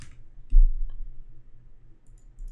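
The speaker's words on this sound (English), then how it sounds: "So I'm going to press tab and type glow." A single sharp keyboard key press, the tab key, clicks once near the start, close and fairly quiet over a low steady hum, with a faint second tap shortly after.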